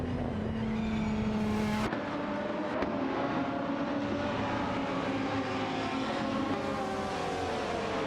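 Race cars in a video game, including a Nissan 350Z GT300 and a Cupra GT, scream past with engine tones rising and shifting through gears, overlapping in a close pack at moderate volume.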